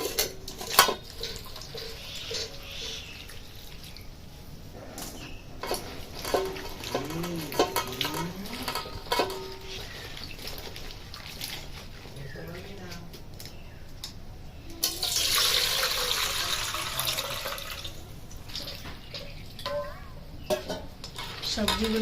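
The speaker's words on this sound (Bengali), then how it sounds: "এবার সবজিগুলোকে ধুয়ে নেব।" Chopped vegetables are rinsed in a bowl of water, with soft splashing, sloshing and occasional clinks of a metal vessel, a fuller burst of running water midway, all fairly quiet and close.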